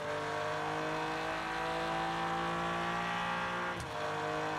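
A BMW race car engine in a racing video game, a steady droning tone held at constant pitch, followed by a sharp drop and a rise again near the end, with no talk over it.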